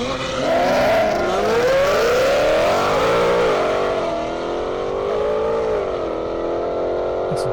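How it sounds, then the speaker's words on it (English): A Lamborghini Aventador revs hard at an airstrip drag race, its loud, close, sustained engine scream rising and wavering through gear changes for several seconds without a break. "Hard to beat the sound of that Aventador though"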